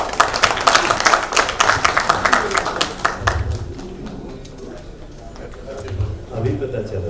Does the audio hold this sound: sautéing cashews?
no